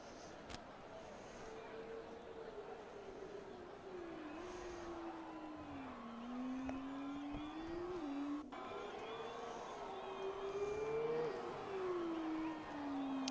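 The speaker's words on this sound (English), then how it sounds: "F2 cars, I just can't get over how good they do sound here in the F1 game." F2 race cars in the F1 video game, a steady engine drone rising and falling in pitch as the car accelerates and shifts, continuous with no talking.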